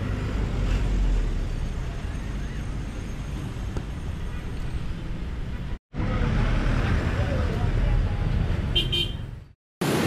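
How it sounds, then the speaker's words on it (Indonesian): A tour bus rolls past on a busy Bogor street, loud broadband traffic roar with a short horn toot near the end, two brief gaps cutting the sound. "Wih, ada bus wisata."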